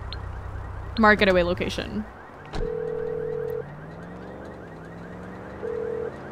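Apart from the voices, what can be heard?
car alarm in Grand Theft Auto V video game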